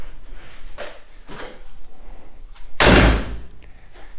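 A homemade steel half door on a Chevy Blazer swings shut with one loud, close slam, preceded by a few lighter knocks and rattles as it is handled.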